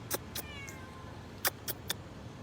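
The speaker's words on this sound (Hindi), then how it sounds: "सैयद शुहदा की बारगाह में खूबसूरत बिल्ली" A cat meows at the Prophet's Mosque in Madinah, giving several short, close mews in quick succession, a few of them higher and more drawn out, over soft background hum.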